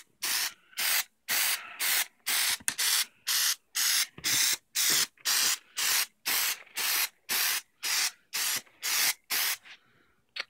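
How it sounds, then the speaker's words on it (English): Repeated bursts of Plasti Dip aerosol spray coating a Batman cowl neck piece, about seventeen in a steady rhythm, each a loud close hiss lasting around half a second with brief pauses. "I've gone ahead and finished spraying the first coat."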